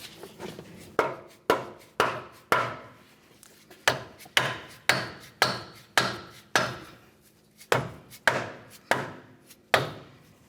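Repeated sharp taps of a rubber mallet driving a control arm with ball joint into place on a 2009-2019 Ford Flex, about twenty close, evenly spaced knocks with brief pauses, no talking.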